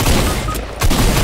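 Heavy Fortnite gunfire in a squads match, loud close bursts of shots hammering in quick succession with a short lull between volleys.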